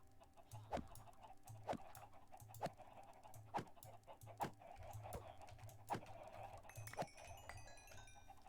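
Chickens clucking in short, evenly spaced bursts, with a steady low hum running underneath and some faint higher chirps near the end; no voices present.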